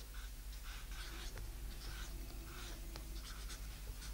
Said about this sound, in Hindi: हम समीका को लिख रहे हैं।